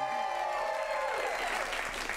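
Audience applause at a live comedy showdown, steady dense clapping from a crowd throughout, fairly loud and continuous with no talk over it.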